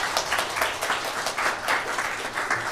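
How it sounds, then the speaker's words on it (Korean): Church congregation applauding to welcome a pastor, a dense moderate round of clapping with rhythmic surges, steady across the short stretch without voices. "우리 큰 박수로 환영해 주시기 바랍니다"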